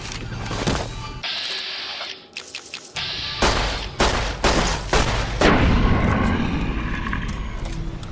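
Gunfire in the modded PC game Fallout New Vegas: several loud, close shots in quick succession, each a sharp blast with a short ringing tail, mixed with booming impacts and continuous rumbling action noise.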